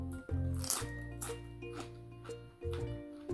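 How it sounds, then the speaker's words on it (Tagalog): Several crisp crunches and crackles of crusty bread being broken, irregular and close, over a low background hum. "At malutong na tinapay."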